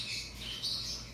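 A Catalina macaw squawks close by in a short, harsh, raspy burst, fairly faint and with no talking.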